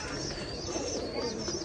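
Black pigeons cooing softly in a clean pigeon loft, a low steady murmur of coos running throughout at moderate distance, with no voices over it.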